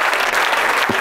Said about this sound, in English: Kinder better than clap your hands for your prophet.